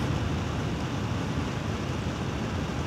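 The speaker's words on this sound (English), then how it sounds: "1900 RPM and it starts to get a bit loud." InWin NR24 Nebula 240mm AIO cooler fans spinning at 1900 RPM, giving a steady, fairly loud broadband whoosh of airflow with no change in pitch and no other sounds.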